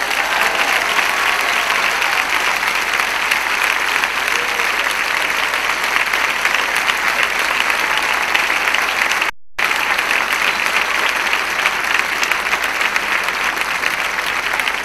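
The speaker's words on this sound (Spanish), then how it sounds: "¿Cuánto le dan un fuerte aplauso al Señor?" A church congregation breaks into loud, sustained applause for the Lord during worship, a dense, even roar of many hands clapping for about fifteen seconds without pause.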